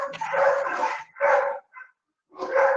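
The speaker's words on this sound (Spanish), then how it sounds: "¿Molesta mucho, Ana, el ladrido de los animales?" Dogs bark in several loud, close bursts with short gaps between them, and one brief yip in the middle, heard on their own during an online surgery lecture.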